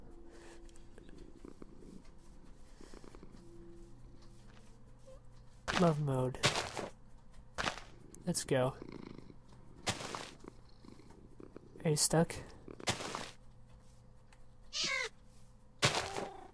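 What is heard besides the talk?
cat purring in the video game Minecraft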